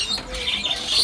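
Green leafbirds (cucak ijo) calling inside a bird shop, with bright, thin chirps and squawks rising and falling over a continuous bed of shop chatter from other caged birds.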